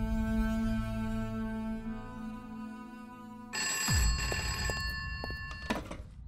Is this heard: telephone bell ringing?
yes